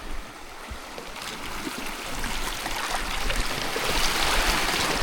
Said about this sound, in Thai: โหน้ำแรงจริงนะเนี่ย